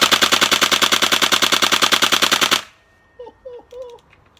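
An HPA airsoft gun fires a rapid full-auto burst, loud and close, with evenly spaced shots for about two and a half seconds, then cuts off abruptly. A voice follows briefly in the quiet afterward.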